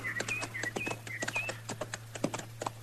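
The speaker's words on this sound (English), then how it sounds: "We better just water our horses and ride on, Chester." Horses' hooves clip-clop in a steady, brisk rhythm of sharp close knocks, a sound effect from a 1953 Gunsmoke western radio drama, with a faint hum underneath.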